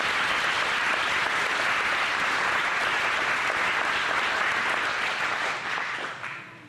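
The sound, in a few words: round of applause for pageant contestants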